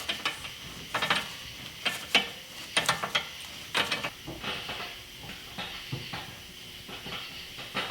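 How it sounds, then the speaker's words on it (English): A pipe wrench levers a car's steering wheel round in a series of short mechanical clicks and ratcheting creaks, irregular bursts close by with soft hiss between, no voices. "just get your pipe wrench on there and use that to turn it"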